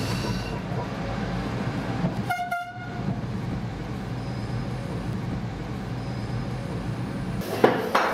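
A tram-train pulls away from a station with steady rail rumble and a brief horn or whistle tone partway through, rolling on continuously nearby.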